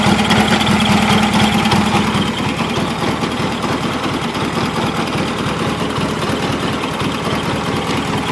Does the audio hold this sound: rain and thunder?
no